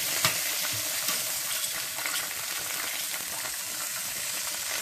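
Steak sizzling and frying on a grill during a long smoke, a steady crackling hiss that stays loud and close throughout, with a few sharper pops and no talking.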